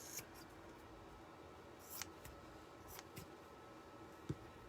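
Scissors trim a paper craft piece with a handful of quiet, crisp snips spaced irregularly over a faint, hushed background.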